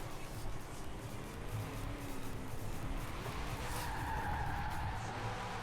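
A car skidding and spinning out in the Forza Horizon 4 racing game, played with a steering wheel: a continuous engine drone with a rising, wavering tire squeal, steady and unbroken, with no speech over it.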